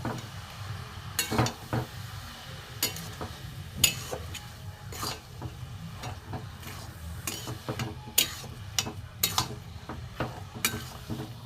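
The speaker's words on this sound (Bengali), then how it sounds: "ভালো করে এটা ভেজে নেব" Jaggery and grated coconut fry in a pan for a semolina steamed pitha, with a faint sizzle and the irregular clinks and scrapes of a stirring utensil.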